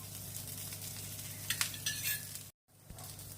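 Ragi dosa batter frying in a hot pan after a little oil is added along the side, a steady low sizzle with brief crackling bursts near the middle, then a short drop to silence.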